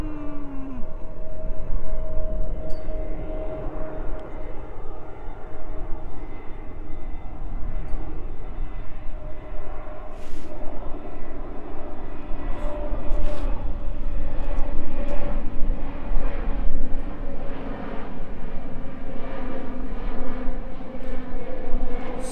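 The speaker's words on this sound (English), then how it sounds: "We need to wait for the airplane to pass." An airplane passes overhead outdoors, a loud sustained engine roar and drone that swells and lingers for a long stretch with no one talking.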